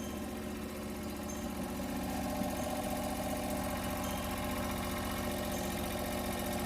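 A John Deere 425 engine with a newly replaced carburetor idles steadily and continuously at close range, a constant mid-low hum with no voices.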